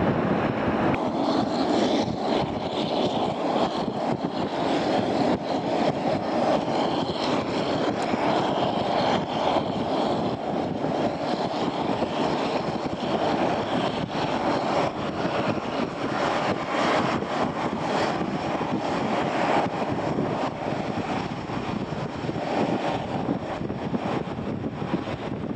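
An airliner landing on runway 25 at London Luton Airport gives off a broad, steady jet roar that holds for the whole stretch, with wind buffeting the microphone and no speech.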